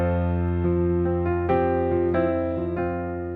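Solo piano plays the opening bar of a song as sustained chords with a counter-rhythm against the melody, several struck notes ringing together clearly and steadily at close range, with no talk.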